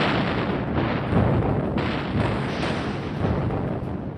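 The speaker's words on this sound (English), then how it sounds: "big gun battleships 8, 10, 12 at a time, lobbing one-ton shells at each other" Battleship big guns firing heavy shells, a dense barrage of deep booming blasts rolling together continuously, loud and close.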